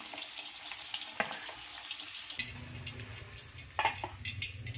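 Fish frying in hot oil with ginger, soft popping and crackling that swells louder midway, with a few clinks of a utensil against the pan.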